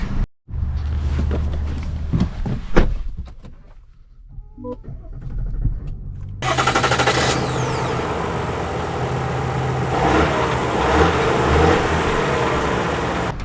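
A half-ton pickup with a small Duramax diesel engine starting up and then running. Quiet cabin clicks and rustles come first, followed by a steady, fairly loud diesel drone that continues to the end.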